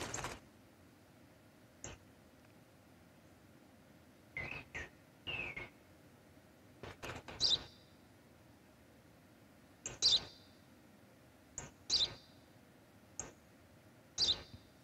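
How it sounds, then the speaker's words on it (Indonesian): A sparrow gives short, sharp chirps at scattered intervals, faint against a quiet, hushed background, with single and paired calls spread across the stretch. "Ένα σπουργίτι είναι, πατέρα."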